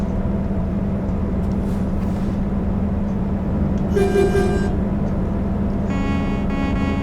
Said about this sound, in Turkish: Bu normal kendi kornası, bu da havalı kornası arkadaşlar.